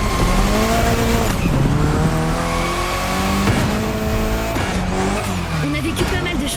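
A Mitsubishi Lancer Evo 6 drifts at the Maui airport in The Crew Motorfest, its engine revving in rising and falling pitches over continuous loud tire squeal, with repeated shifts and throttle bursts throughout.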